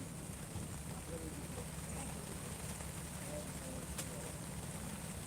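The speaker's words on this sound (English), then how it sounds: "Don't let the rain slow you down, folks." Steady rain patters across an outdoor art market in Estes Park, a continuous, even hiss with a low rumble beneath and faint voices mixed in.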